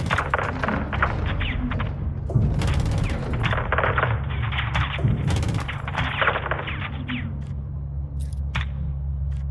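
An AC-130 style gunship in the Call of Duty Modern Warfare 2 campaign pours rounds from its 25 mm cannon, heavy thumping bursts and mechanical clatter continuing under a steady engine drone, without speech.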